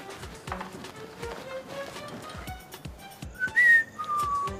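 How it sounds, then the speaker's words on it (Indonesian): Person whistling at night, short rising whistled notes near the end over soft rhythmic clip-clop-like knocks and faint background noise. "jangan siul malam-malam"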